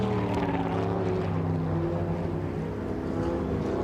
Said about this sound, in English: What a great noise the Cobras make.